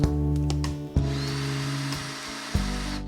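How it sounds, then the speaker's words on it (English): A power drill whirs steadily, briefly stopping and restarting twice, with a low motor drone and faint grinding as the bit bores through wood during boat building. "See how the drill bit is following that line?"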